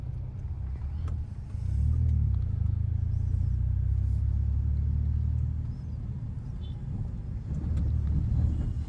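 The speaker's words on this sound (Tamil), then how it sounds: "ஆப்போசிட்ல ஒரு பலினோ போச்சு பார்த்தீங்க" A Suzuki Baleno car passes on the road, a low rumbling swell that rises, holds, then eases while another engine drones underneath.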